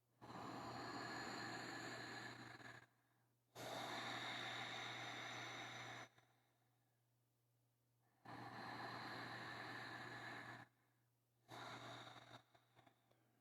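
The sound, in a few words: deep breathing during stretching exercise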